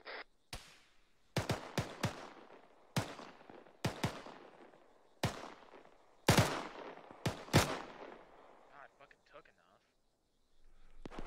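Automatic rifle fire in a military squad shooter game, with sharp bursts and single shots cracking at irregular intervals across the span, echoing tails trailing after each, while people talk in between.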